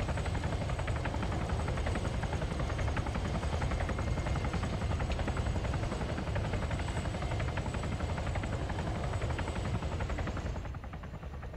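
Military helicopters at a training site give a steady, distant rotor whine and thump that fades at the end as they spool down.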